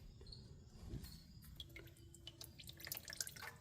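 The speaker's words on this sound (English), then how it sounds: "We'll just go ahead and let the last few drops come out of there." Last drops of engine oil falling from the drain hole of a Subaru WRX oil pan into a bucket, a few small, irregular drips over a low background hum.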